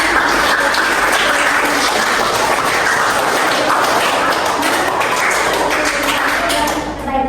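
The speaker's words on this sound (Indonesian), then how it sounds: "tepuk tangan untuk hasil karya kalian." Students clap for their own work in a classroom lesson, a loud, even stretch of many hands clapping for about seven seconds before tapering off at the end.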